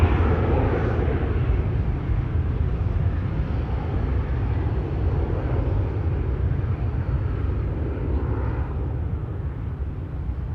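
A departing airliner at Amsterdam Schiphol Airport produces a loud, steady broadband jet roar that holds nearly constant, with no talk heard.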